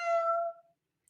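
A single short, clear cat meow sounds close by and fades quickly into silence.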